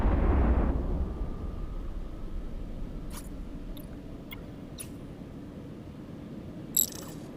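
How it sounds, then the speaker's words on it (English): A spaceship is destroyed in the mobile game EVE Echoes. A deep, booming explosion opens and then fades into a low rumbling tail, with a few faint electronic blips and a small pop later on. "in a couple moments, the Cinnabon will be destroyed"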